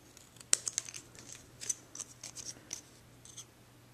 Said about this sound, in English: Now I'm going to go back in with scissors here. And I'm just going to, by hand, trim these strips.